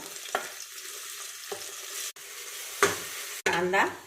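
Chopped onions fry in oil with a soft, steady sizzle that continues underneath. A few sharp knocks and brief stirring noises break in, and the sizzle stays faint and low throughout.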